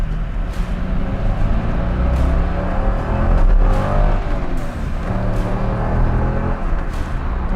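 A 1999 coupe engine, 22 years old, revs hard up toward 6,000 RPM, a loud continuous roar with repeated rises and falls in pitch.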